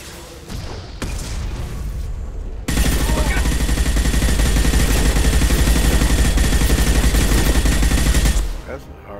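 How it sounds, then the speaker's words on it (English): Sustained gunfire from combat in the video game Mass Effect 2, where a shotgun is in use: loud, dense, continuous bursts of shots and booms lasting several seconds after a brief quieter lead-in, ending abruptly. "First time that shotgun's really come into any use, really."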